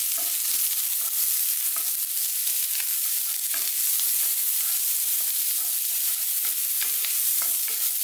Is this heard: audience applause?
no